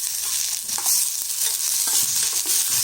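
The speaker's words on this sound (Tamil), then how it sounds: "இதை நல்லா வதக்கிடலாம்." Ingredients for urad dal chutney being sautéed in a pan, a steady close sizzle with scattered light stirring clinks and scrapes, no one speaking.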